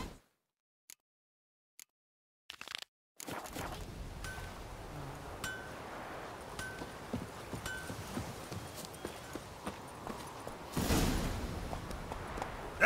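Horse hooves clip-clop at a steady walking pace in The Witcher 3 video game, close and clear, after a few short isolated clicks, with a faint rustle and a brief louder swell near the end, no talking.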